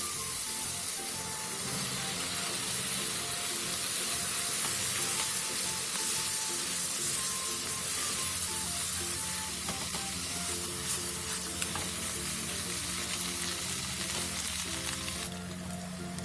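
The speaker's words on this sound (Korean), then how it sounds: "다진 마늘 2분의 1을 넣고 볶다가 양파, 느타리버섯을 넣고 느타리버섯의 숨이 죽을 때까지 볶아주세요" Minced garlic, onion and oyster mushrooms stir-fry in a hot pan, a loud, unbroken sizzling hiss held close for the whole stretch, with occasional faint stirring and no talking.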